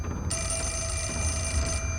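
An old-style telephone bell rings in the horror video game Fatal Frame 4, a single bright metallic trill sounding steadily for about a second and a half over a low background hum, with no talking.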